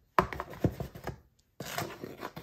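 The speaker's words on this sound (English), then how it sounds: "So I'm going to mix this up some more" A spoon working salmon burrito filling around a bowl: quiet, uneven clacks and scrapes in two short bursts with a brief pause between them.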